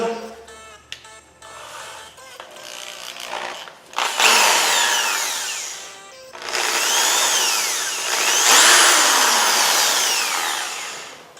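A power drill fitted with a polishing or sanding attachment works on a Hyundai Tiburon's headlight lens in a driveway, starting in short bursts and then running loud and steady, with pitch shifts as it bears on the plastic.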